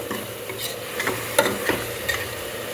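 Tomato masala with ghee and garam masala fries in a pan for tomato bath, a steady close sizzle broken by scraping spoon stirs, with no voices.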